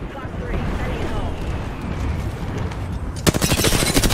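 Gunfire in the battle royale game Apex Legends: a few seconds of steady game noise and voices, then a rapid burst of sharp automatic shots near the end.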